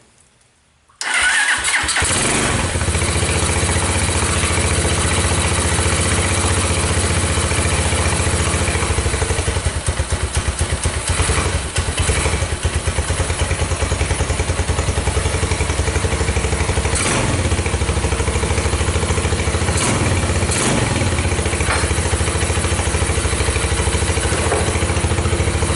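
An LT230 thresher's engine catches abruptly and then runs loud and continuous nearby, a rough clattering drone that holds steady for over twenty seconds with occasional surges as gas is given.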